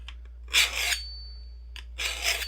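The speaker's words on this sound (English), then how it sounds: "You do need to put a little bit of pressure on this to get the axe nice and sharp." An axe blade being sharpened with a handheld sharpener under firm pressure, two close rasping strokes with a short quiet gap between them.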